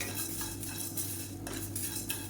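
Spices, including roasted asafoetida, dry-roasting in a pan while a spoon stirs them, giving scraping clinks of metal over a steady low background hiss.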